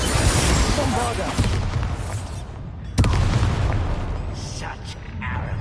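A Bombarda explosion spell in the video game Hogwarts Legacy, heard as a heavy booming blast that bursts out sharply midway through dense game noise, with a voice present at times.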